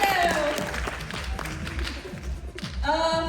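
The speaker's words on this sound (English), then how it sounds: "One more round of applause for Rakita, everybody!" A crowd claps and cheers in a burst of applause at a live science show at Science Museum Oklahoma, with a voice and music-like tones rising near the end.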